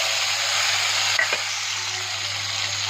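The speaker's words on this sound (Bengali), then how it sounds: "যে তেলটা আছে ওই তেলেই আমি করব। তার মধ্যে পেঁয়াজগুলো দিয়ে দিলাম" Onions frying in oil left over from frying potatoes, a loud, dense, continuous sizzle heard close, with a brief clink of a utensil partway through and no talking.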